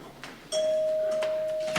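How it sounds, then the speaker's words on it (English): A doorbell rings in a quiet room in a staging of Arsenic and Old Lace, a single steady sustained tone that starts after half a second and holds to the end. "doorbell, dear, not that telephone"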